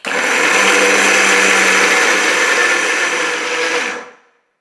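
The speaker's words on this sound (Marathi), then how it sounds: "आता आपण हे मिक्सरला लावून घेऊया" A kitchen mixer grinder whirs loudly and steadily for about four seconds grinding garlic-coconut chutney, then winds down and stops, with no talking.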